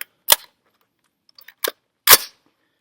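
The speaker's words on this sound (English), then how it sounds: "I'm going to shoot just like I did unsupported, pushed into the mount here." A 6.5 Creedmoor rifle fired from a Manfrotto tripod at 200 yards: a few sharp, clipped cracks spaced apart, the last the strongest, with silence between them.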